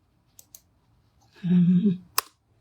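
A few sharp key clicks on a computer keyboard at an embroidery setup, including pressing enter, with a brief low hum from the machine mid-clip before one final crisp click.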